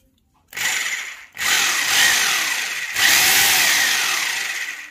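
A Super Steel 2250 watt rotary hammer drill fitted with a bit makes a loud, steady whine on a test run, starting after a brief silence, cutting out for a moment, then running on twice more.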